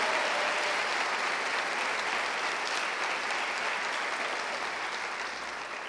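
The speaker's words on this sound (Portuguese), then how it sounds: "Pode dar uma salva de palmas ao Senhor?" A church congregation clapping together, a loud, sustained wash of applause that holds steady and then fades slightly toward the end.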